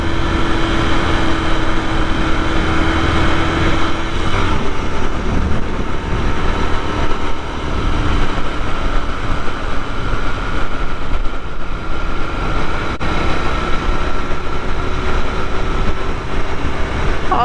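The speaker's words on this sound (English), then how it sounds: "I hope the sound is coming through on the microphone for you, with the engine and the exhaust" A 2021 Royal Enfield Continental GT 650 twin engine and exhaust on the move, a continuous loud drone with slowly shifting pitch, mixed with wind rush, rising slightly midway and steady to the end.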